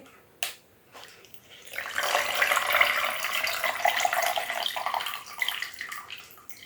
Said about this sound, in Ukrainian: Злию також воду з цієї орхідейки.